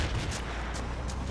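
Gunfire from the Battlefield 2 video game, a short burst of rumbling distant shots and booms under a dense, noisy battle din, with no voice.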